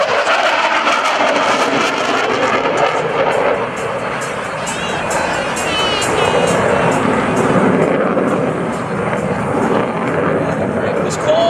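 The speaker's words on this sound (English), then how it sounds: "You can hear how quiet it gets here as he pulls those engines back." Roar of an F/A-18C Hornet's twin jet engines throttling back on approach at an airshow demonstration, the loud rushing noise easing into a quieter spell before swelling again, with a commentator talking over it.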